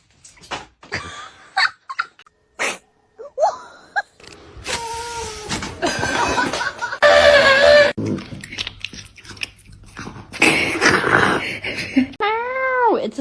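A cat meows and yowls in a series of loud, drawn-out cries broken by short pauses, ending with a rising and falling wail.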